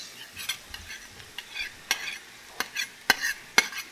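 Peppers frying in a pan, a soft steady sizzle broken by several sharp clinks and scrapes of a utensil stirring and flipping them, close and fairly quiet with no talk.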